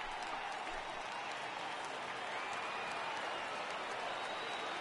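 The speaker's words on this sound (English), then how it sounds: "Crowd gets up for the 3-2." Baseball stadium crowd in Seattle rising on a full 3-2 count, a broad, steady roar of cheering and applause sustained throughout at moderate distance, with no distinct voices standing out.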